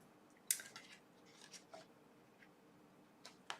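Scissors snip through designer series paper for handmade cards in a quiet room: a crisp cut, a few smaller snips after it, then two more soft cuts near the end.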